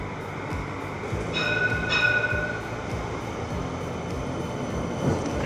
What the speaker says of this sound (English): here's a train now